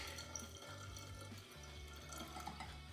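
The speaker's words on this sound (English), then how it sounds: "all we're going to do now is gently pour it back into our wine." Dissolved fermentation stopper is gently poured back into homemade banana wine, a quiet liquid trickle and glug with a low hum underneath, faint and continuous over a few seconds.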